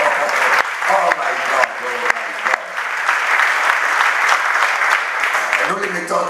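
A church congregation claps loudly and continuously in a sustained burst of applause, full and close, with scattered cheering or voices mixed into the crowd.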